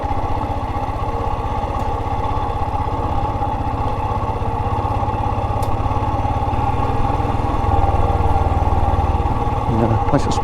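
A Royal Enfield Himalayan motorcycle rolls slowly in first gear down a steep, loose dirt slope, its single-cylinder engine thumping steadily up close with a low, even drone and faint clatter throughout.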